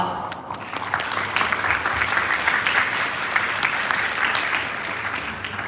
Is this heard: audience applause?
yes